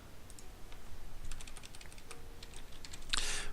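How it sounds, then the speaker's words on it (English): Keystrokes on a computer keyboard during a Minecraft session, a steady run of light clicks with a quick, dense burst at the end, close and clear with no talking. "I'm typing in the wrong thing."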